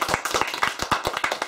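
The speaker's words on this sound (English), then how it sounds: "so let's give him a big round of applause." A small group claps at a summer reading program magic show, quick close hand claps in a brisk uneven rhythm for a brief burst.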